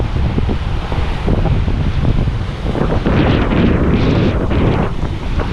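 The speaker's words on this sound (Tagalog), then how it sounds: "Kalakas ang hangin." Strong wind buffets loudly and continuously outdoors, a heavy rumbling rush with surging gusts that swell toward the middle and linger to the end, no voices over it.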